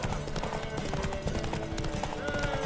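Rapid horse hoofbeats clatter steadily throughout in The Witcher 3: Wild Hunt, layered over dense game noise and a busy background, with a horse sound mixed in.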